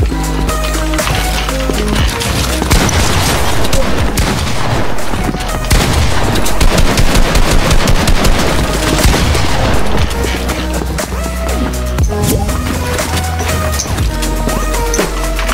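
Shotgun fire in a fast-paced video game, loud bursts of gunfire and booms packed densely over continuous game music and effects, with no clear gaps between blasts.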